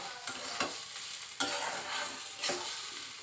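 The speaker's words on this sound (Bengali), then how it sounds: "এবারে সুন্দর করে আরও এর সঙ্গে নাড়িয়ে নেব।" Spices, including Kashmiri chilli powder, stirred in a hot frying pan, a soft steady sizzle with several distinct scraping strokes of a spoon at irregular intervals, fairly quiet and close, no voices.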